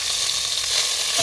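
Chopped tomatoes and green chillies sizzle in hot oil in a frying pan for a fish curry, a steady close hiss with a light stir near the end.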